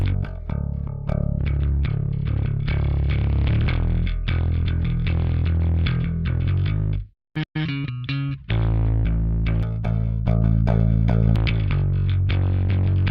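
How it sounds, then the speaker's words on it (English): Heavily distorted bass guitar through a bass preamp plugin playing a driving line, gritty and compressed, with a brief drop-out partway through before the riff resumes. "with all of that distortion, you're also compressing the bass guitar"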